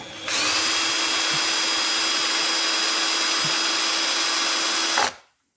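A power drill with a small bit boring a hole during a home repair of a car intercooler, one steady high-pitched whine running about five seconds at close range, then cutting off abruptly.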